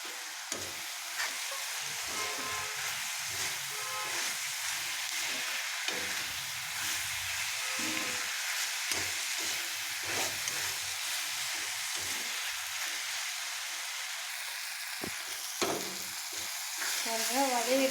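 Chopped tomato and crushed garlic sautéing in a pan for a prawn egg stir-fry, a steady crackling sizzle with occasional scraping stirs, close and continuous.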